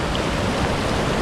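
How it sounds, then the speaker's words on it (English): Water from a stream running into a bottle during a mountain bike ride near Whistler: a loud, constant broadband rush of flowing water, close and unbroken, with no voices. "Quick water fill up."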